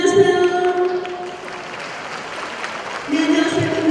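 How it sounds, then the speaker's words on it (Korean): Short burst of audience clapping welcomes a Korean folk singer onto the stage at an 800th-birth-anniversary commemoration, swelling between announcer's speech and fading as talk resumes. "박수 부탁드리겠습니다"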